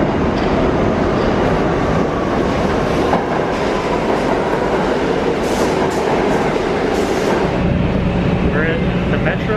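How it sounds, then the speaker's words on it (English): A New York subway train rides along with a loud, steady rumble and rattle from the car and tracks. The noise fills the whole stretch, and a voice is faintly heard under it. "We're in the Metro, heading up north."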